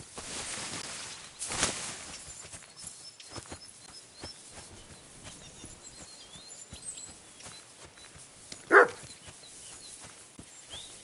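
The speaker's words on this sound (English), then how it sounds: "Barking." A single dog bark in Kingdom Come: Deliverance 2, a short sharp bark near the end, standing out against a quiet ambient background with faint rustles and footsteps.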